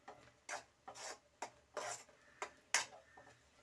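Maida and rice flour are stirred into boiling water, producing a series of quiet, rhythmic scraping strokes about twice a second, close and faint with no talking.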